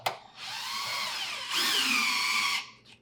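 Power socket driver with a 13 mm or 1/2 inch socket turning the rear leveling leg adjustment rod on a Fhiaba built-in refrigerator, a steady close whirring burst that shifts pitch midway and stops after about two seconds.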